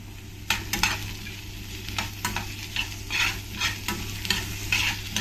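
Chopped garlic frying in a pan for sautéed chayote, crackling with a steady close sizzle broken by repeated scraping stirs.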